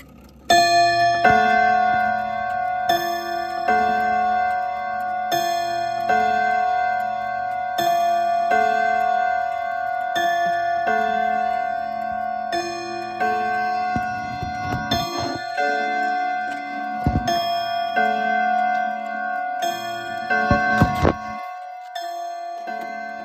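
A 1978 Jantar mechanical clock ticks steadily in a regular rhythm throughout, then sounds chime or bell strikes with ringing tones near the end, close and clear with no talking.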